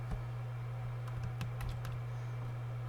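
Faint, sparse keystrokes on a computer keyboard tap out a short burst of typing in a quiet room, a handful of light clicks spaced irregularly with no talking.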